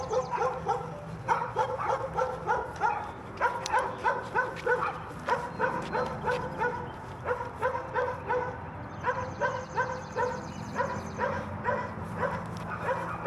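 Dogs barking repeatedly in quick yappy bursts, fairly close, with occasional whimpers between barks and a steady outdoor background.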